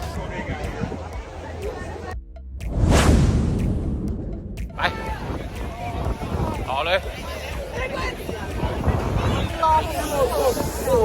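Wind gusts across an outdoor German beer festival ground, a broad rumbling rush that swells loudly partway through, with crowd babble and people talking nearby throughout.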